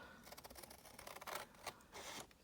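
Scissors snip through card for a chocolate orange box in a quick run of short, faint cuts, close by and with no talking.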